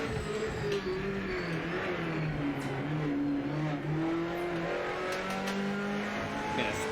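Racing engine of an old Ford GT500 race car in the Project Motor Racing video game, a loud, steady drone that rises and falls through the gears for the whole stretch, with no talking.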